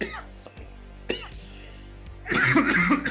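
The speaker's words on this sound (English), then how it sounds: "sorry, I have a cough" Coughing and throat-clearing from a single person, a few short bursts followed by a louder, rougher fit near the end, close to the mic.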